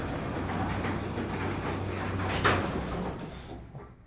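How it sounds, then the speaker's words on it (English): A motorized garage door opens with a steady low rumbling drive, with a brief rattling clank near the middle before the noise fades toward the end. "All right, so the door is opening behind me"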